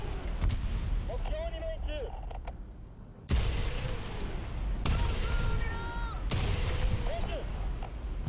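Aircraft guns in War Thunder rattle in loud, sustained bursts, the first beginning about a third of the way in and two more following close behind, over a steady engine drone and faint whistling tones.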